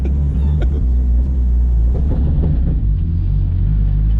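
A dyno-tuned, modified Lexus SC300 engine drones loud and low from inside the cabin while driving, a steady heavy rumble with a few faint knocks and rattles.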